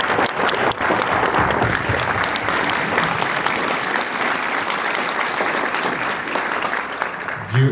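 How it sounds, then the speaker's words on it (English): Guests at a bishop's consecration reception break into sustained applause, loud and continuous clapping from a crowd in a hall, holding steady throughout. "I would like to give you an applause"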